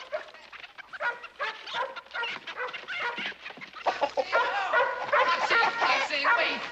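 A dog on a ranch with livestock barks in a rapid run of close, loud yaps that grow denser toward the end, with clucking fowl mixed in.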